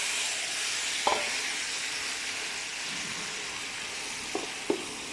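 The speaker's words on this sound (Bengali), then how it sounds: "মিষ্টি কুমড়াটা একটু ভেজে নিব।" Sweet pumpkin fries in soybean oil, a constant close sizzle and hiss broken by a few brief knocks of a spoon against the pan, with no talking.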